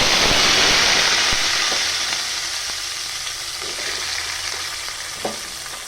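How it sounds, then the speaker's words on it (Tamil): Chopped onions sizzle and crackle in hot oil with mustard seeds and cumin, a steady loud frying hiss with occasional sharp pops and stirring clinks, easing slightly after the first second. "நம்ம பொடியாக கட் பண்ணி வச்சுருக்கிற வெங்காயத்தை"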